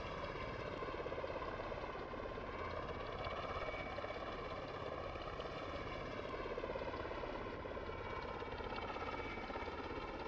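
Steady, droning rotor and engine hum of an MV-22 Osprey tiltrotor in Microsoft Flight Simulator 2020, a continuous layered whine and throb holding constant throughout with no talk.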